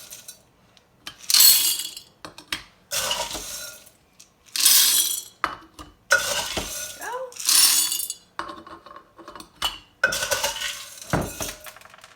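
Dry pinto beans being stirred in glass canning jars give a run of bright clattering rattles in repeated bursts, fairly close and loud, with short pauses between each stir.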